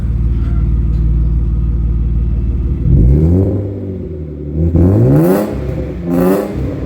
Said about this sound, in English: So yeah, it's Dave, give this a little rev. Let's have a before and after sound